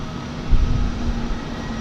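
An Airbus A220-100 jet at DFW Airport gives a steady, moderately loud engine rumble with a faint sustained tonal hum, briefly swelling low midway through.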